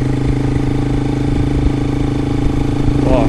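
A motorcycle engine runs close and loud as the rider accelerates and shifts gears, a steady throbbing drone with slight changes in pitch, with wind noise over it.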